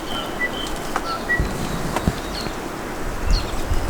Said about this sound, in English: So those birds are called saddlebacks